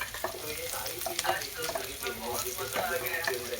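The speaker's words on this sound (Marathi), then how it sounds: "आता आपण त्याच्यात कांदा टाकू द्या." Finely chopped onion hitting hot oil in a pan for peru (guava) bhaji, giving a steady crackling sizzle with light stirring scrapes throughout, close and moderately loud.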